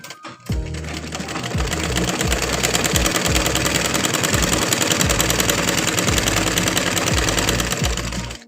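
Sewing machine stitching fabric, a fast, even mechanical rattle of needle strokes running continuously after a brief start, close and loud, with soft thumps of the mechanism underneath and no talk.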